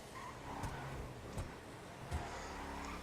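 A car driving through the streets in GTA 5, its engine a steady low drone with a few brief bumps and clunks, moderately loud and alone with no talk.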